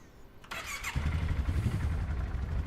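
A four-wheeler starting up in the video game Ranch Sim: a short starter crank, then the engine catches and settles into a steady, rumbling idle.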